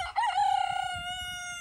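A large rooster, one of several big cocks kept on a farm alongside alpacas, llamas, hens and dogs, lets out a single loud, close crow with a rising start and a long, drawn-out tone.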